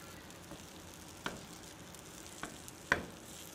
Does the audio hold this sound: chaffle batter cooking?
yes